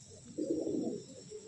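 A single soft pigeon coo rises briefly from a loft, faint and close, over a quiet background hum.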